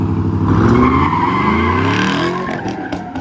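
A car doing donuts lets out loud, close tire squeals with a revving engine underneath, the screech rising and sweeping in pitch for a few seconds.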